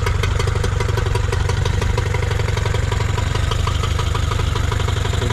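A Nissan/Tohatsu 18hp outboard motor idles steadily up close after carburetor cleaning, a loud, even chugging with a rapid mechanical clatter that holds a constant pace.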